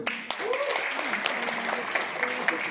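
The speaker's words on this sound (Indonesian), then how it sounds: "Tepuk tangan dong." Audience applause at a health talk, heard as a short burst of scattered clapping mixed with voices speaking over it.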